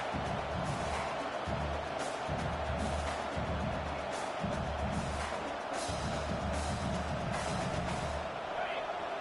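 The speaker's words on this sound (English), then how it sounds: "listen to this crowd noise. This stadium is vibrating." A dense, steady roar of a large stadium crowd at a video game football match fills the space, loud and continuous, with a low rumbling rhythm beneath.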